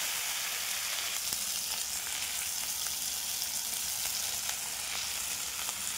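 Spices hit hot oil in a frying pan during home cooking, producing a continuous, even sizzle that stays loud and steady throughout with no voices.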